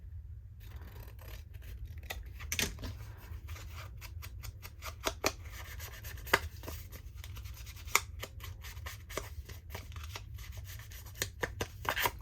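Scissors snip through paper for a handmade envelope journal, a long run of quick, crisp cuts in an irregular rhythm over a steady low hum, close by with no talking.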